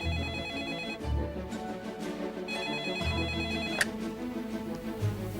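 A telephone bell rings in two long trilling bursts about two seconds apart, close and clear over a low background, before being answered.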